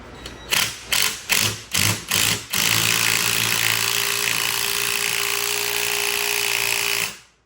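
A Ryobi power tool drives a socket while working on the steering of a Super Duty truck: five short rattling impact bursts, then one long continuous whirring run that cuts off abruptly, loud and close.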